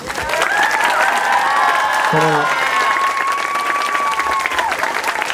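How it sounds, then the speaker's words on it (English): A roomful of people applauds Coach James at a fall awards ceremony, a loud, continuous wash of clapping with voices talking and calling out over it. "I want a huge round of applause for Coach James"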